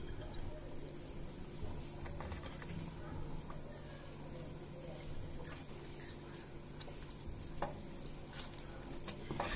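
Bisi Bele Bath bubbling in a pot, a steady low simmering burble with faint ticks and stirring, soft and continuous throughout.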